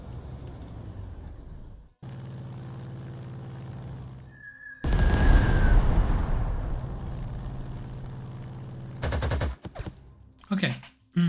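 Artillery fire in the Panzer Corps 2 strategy game, heard as a loud sustained roar of gunfire and blasts with a whistling shell streak, broken by brief silences and ending in sharp clustered bangs.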